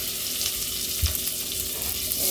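Onions frying in melted butter and oil in a pan while making butter chicken curry, a steady soft sizzle with a brief clunk partway through, no talk.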